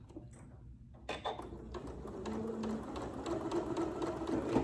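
A Janome Memory Craft MC9450 sewing machine sewing a rolled hem: after a brief near-silent start, the close motor whirs into a fast, steady rhythmic stitching that grows slightly louder.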